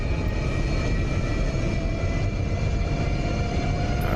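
F-104 Starfighter jet engine in the DCS flight game during a steep climb, a steady loud broadband roar with a constant whine above it, unbroken throughout with no voices.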